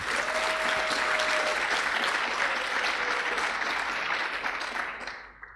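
Audience applause at a Perl conference keynote, a dense sustained wash of clapping from a large crowd that holds steady and then fades out near the end.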